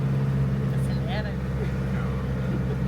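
A motorhome drives along a road near Capitólio, its engine giving a steady low drone throughout while people talk over it.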